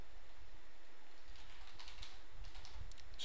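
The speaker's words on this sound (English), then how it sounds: "Just hit accept and then type in the name here." A file name is typed on a computer keyboard during a Blender setup, a quick run of close, light key clicks over a steady background hiss, with no talking.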